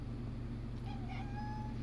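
A cat gives a single short, rising meow, close but soft over a constant low household hum, in a home with a young Doberman puppy.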